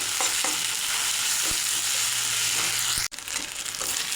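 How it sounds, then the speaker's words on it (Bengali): Onions fry with ginger, garlic and cumin paste for a duck curry, giving a steady loud sizzle and the scrape of stirring. A brief dropout near the end is followed by quieter sizzling. "এই অবস্থায় দিয়ে দেবো আদা, রসুন, জিরে বাটা। পেঁয়াজের সাথে ভালো করে ভেজে নেব।"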